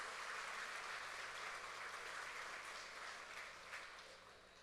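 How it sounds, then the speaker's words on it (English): Audience at a Choctaw Nation princess pageant applauding the Little Miss contestants, a soft, even wash of clapping from a distance that slowly tapers toward the end. "Let's give them, our little misses, a round of applause."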